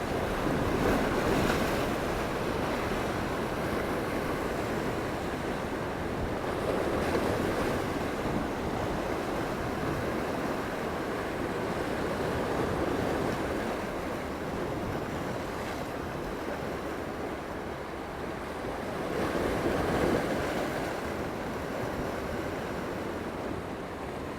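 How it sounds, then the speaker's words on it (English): Sea waves roll in and break in slow surges every few seconds at Port d'Andratx, Mallorca, with gusty wind buffeting the microphone throughout. "Definitely some bigger waves now."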